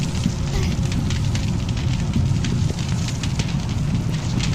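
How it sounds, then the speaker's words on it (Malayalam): Fire being doused with water in the video game Mr Hopp's Playhouse 2, a steady, loud hissing and roaring rush that runs without a break for several seconds, with no talk. "തീ അണയ്ക്കുന്നു"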